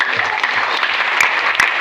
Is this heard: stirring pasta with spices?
no